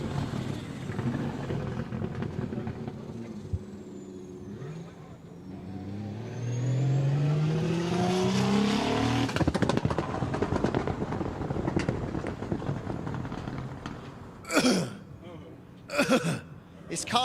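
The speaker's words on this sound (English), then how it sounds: "His car makes me want to cough the way its engine sounds" A drift car engine revs and rises in pitch with a rough, gurgling tone at a D1GP Malaysia drifting event, then drops back to a steady drone, followed by a few sharp bursts near the end.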